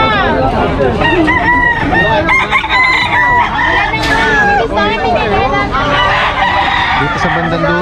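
Fighting roosters at a market in Bocaue crow loudly and cluck close by, repeated calls overlapping with a busy crowd of people chatting in the background.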